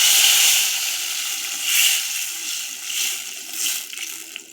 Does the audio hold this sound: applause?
no